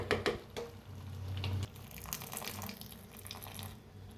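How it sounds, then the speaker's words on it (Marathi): Pasta cooking water poured off from a pot into a strainer, a loud splashing gush for about a second and a half, then quieter wet trickling and squishing as the cooked pasta settles. "आता हे सगळं पाणी ओतून घेऊया"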